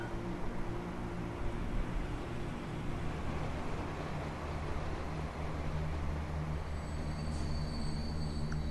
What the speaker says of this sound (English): Two trains coming in at once.